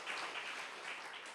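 A church congregation at a Sunday worship service applauds, a faint, steady wash of clapping from many hands that holds evenly throughout the short stretch, with no voices standing out.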